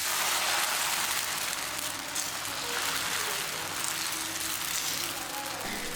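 Dosa batter sizzles on a hot tawa, an instant dosa with 1.5 ladles of batter poured on, giving a loud, steady, close-up crackle that carries on without a break.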